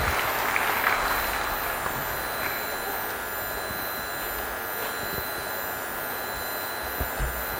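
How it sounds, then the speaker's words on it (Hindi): An audience at a formal university event in Madhya Pradesh gives sustained applause for the state Legislative Assembly Speaker, a loud, even wash of clapping that holds steady throughout. "जोरदार तालियां"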